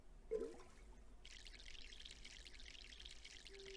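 A plant is watered in the video game My Sims, a short soft pouring hiss that follows a brief chime and runs on steadily at low volume.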